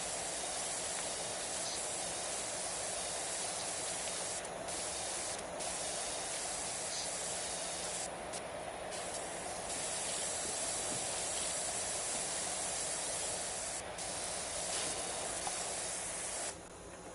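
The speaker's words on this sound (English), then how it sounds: "Spray some more soap." Pressure washer spraying continuously in the video game Power Wash Simulator 2, a steady close hiss that runs the whole time with brief breaks and shifts in the spray, and no one talking.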